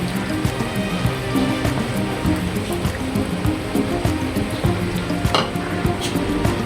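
Ground crab leg paste going into a sizzling homemade crab masala curry, a steady close frying crackle and hiss with stirring scrapes throughout.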